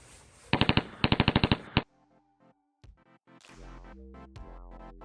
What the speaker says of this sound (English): When you pull the trigger on this, both guns fire, can't be separated.